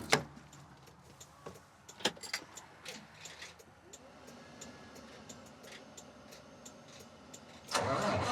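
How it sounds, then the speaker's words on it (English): Feed delivery truck engine cranking and catching near the end, a sudden loud broadband roar that holds steady, after a stretch of quiet clicks and faint background noise. "I'm going to turn the truck back on."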